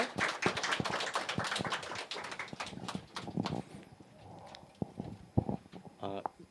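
Congregation clapping during a Korean Sunday church service, a burst of scattered hand claps that fades out over a few seconds, with some voices around it.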